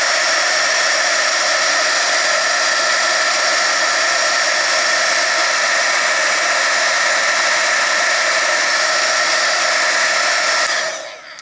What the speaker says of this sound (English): So you can see I turn the heat gun on and off.